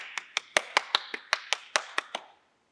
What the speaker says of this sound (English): I'm going to give you all a round of applause.